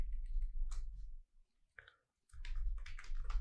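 Computer keyboard keys are typed in short bursts of soft, close clicks while entering a page title in an HTML editor, with a brief pause in the middle.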